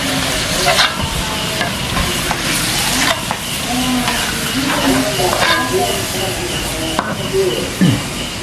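Loud crackling sizzle of salted peda fish frying in a pan, with scraping stirs and clanks of a utensil, steady hiss throughout.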